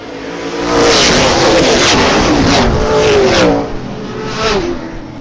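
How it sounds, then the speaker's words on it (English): A pack of outlaw super late model race cars roars off at the start of a race at Springport Motor Speedway, engines revving hard and swelling loud as they pass, then easing slightly. "Green flag in the air. We're racing."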